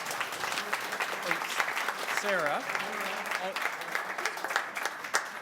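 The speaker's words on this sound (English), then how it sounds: "I say for tonight we will allow clapping" Audience clapping in a council subcommittee meeting room on Ontario Place, a steady wash of applause from a crowd with a voice speaking over it.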